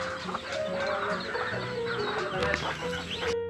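Several chickens cluck and chatter nearby in a continuous, busy flock sound, with soft rustling around them.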